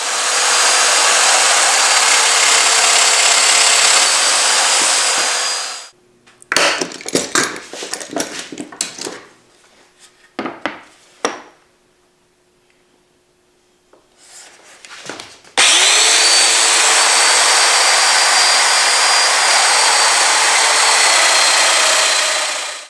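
A domino joiner cuts slots into a wooden divider for a curved-front end table, running as a loud, steady whine for about six seconds, then again for the final seven, with scattered knocks and scraping handling noises between.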